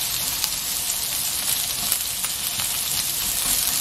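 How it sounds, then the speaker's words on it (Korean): Broccoli, onion and garlic stir-frying in a pan over high heat: a bright, continuous sizzle heard up close, with light scraping and clinking scattered through it and no talk. "지금 센 불로 볶아주고 있습니다"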